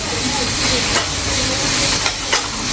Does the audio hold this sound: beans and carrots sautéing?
yes